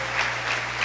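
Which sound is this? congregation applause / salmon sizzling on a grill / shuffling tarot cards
congregation applause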